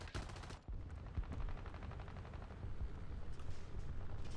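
Bomber rear gunners in War Thunder hammer away with machine guns in a steady, rapid stream of shots, loud and continuous with a short break near the start.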